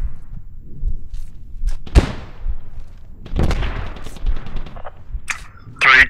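Heavy .50 caliber machine gun fire in the military shooter Squad, heard as a sharp loud blast near two seconds and a burst of rapid shots a little past three seconds, with further thumps and clatter around them.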